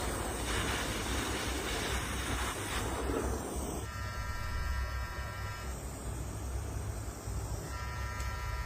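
A coal-fired steam locomotive engine runs steadily with a loud, continuous mechanical rumble and hiss, its tone shifting partway through.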